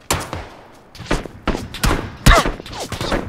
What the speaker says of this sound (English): Oh, they're shooting at people.